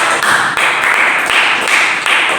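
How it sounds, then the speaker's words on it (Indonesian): A classroom of students claps for a student group during a biology lesson, a short burst of close, fairly loud clapping with a few brief pauses. "beri tepuk tangan untuk mereka"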